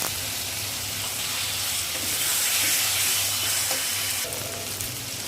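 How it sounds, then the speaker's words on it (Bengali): Spiced masala with chopped raw tomatoes frying in a pan, a steady close sizzle and hiss running throughout, with a few faint clinks from stirring. "মশলাটা ভালোই কষে যাচ্ছে, একটু শুকিয়ে গেলে তারপর একটু জল দিয়ে আর একটু কষিয়ে দেবো"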